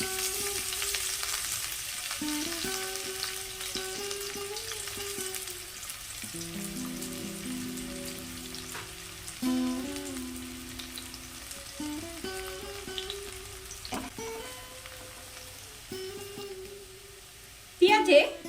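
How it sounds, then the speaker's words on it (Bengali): Chopped onions crackle steadily in hot oil left over from frying cashews, a soft continuous sizzle with a few louder spits near the end, heard under a voice and some tonal sounds. "এই তেলে দিয়ে দেব কুচানো পেঁয়াজগুলি"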